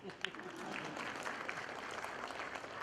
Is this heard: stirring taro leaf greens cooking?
no